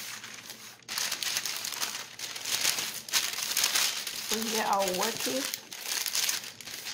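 Parchment paper crinkles and rustles steadily while almond flour keto pizza dough is handled and moved toward a baking pan, close and continuous, with a person talking over it.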